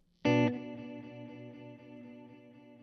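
A single electric guitar chord through a Kemper Echo Verb effect, a sharp loud attack followed by a long shimmering tail of echoing repeats and reverb that fades slowly, heard alone.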